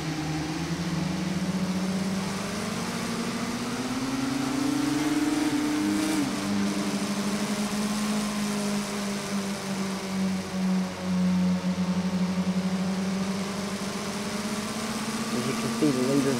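The No. 28 race car's engine, heard onboard during a heat race at Sonoma, drones loud and steady with pitch rising and falling through shifts and turns, while a commentator talks over it.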